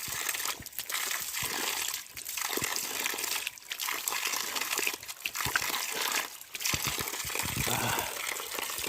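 Cold hill water running from a bamboo pipe in the hills of Alikadam, Bandarban, a close, continuous splashing trickle with gushing surges and brief dips in level.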